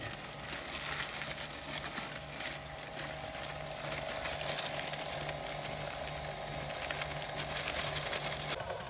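Electric hand mixer running steadily on low speed, beating flour into an egg and oil batter for mandel bread; a continuous close whirring motor hum with rattling beaters, unbroken for about nine seconds.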